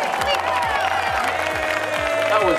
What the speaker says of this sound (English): Let's give a round of applause for Beth right there